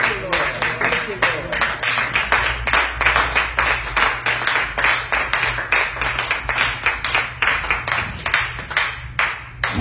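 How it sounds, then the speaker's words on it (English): Church congregation clapping hands in praise during a sermon, a dense, steady run of claps sustained throughout at close range, with voices mixed in among the clapping. "Somebody ought to clap your hands and give God some praise."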